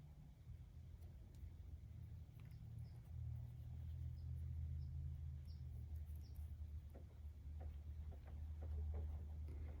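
A Sanitaire vacuum cleaner motor, temporarily wired up for a health check, runs with a steady low hum and rumble that grows slightly stronger partway through, with faint ticking on top.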